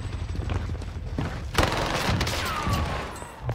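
PPSH submachine gun fire in the Call of Duty Vanguard video game: rapid bursts of shots with impacts and clatter, fairly quiet and mixed with other game sounds.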